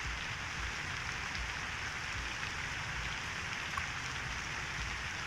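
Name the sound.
rain falling in Cities Skylines 2 video game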